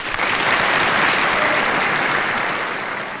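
Loud, dense applause from a full hall at the close of a community association's evening event, a continuous wash of clapping that fades slightly toward the end.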